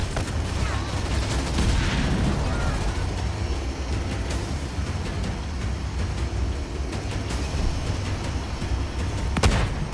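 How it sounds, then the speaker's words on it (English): Ground troops trade gunfire in the real-time strategy game Halo Wars, a dense, continuous rattle of rifle and machine-gun bursts over battlefield rumble, with sharper cracks near the end. "Under fire from ground troops!"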